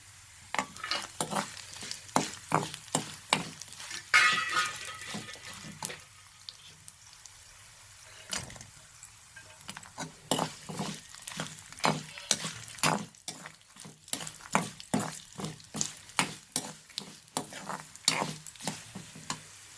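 A spoon stirs and scrapes tempering ingredients roasting in a hot pan for curd rice, giving a steady run of sharp, rhythmic scraping strokes over a continuous low sizzle, close and clear with no voices.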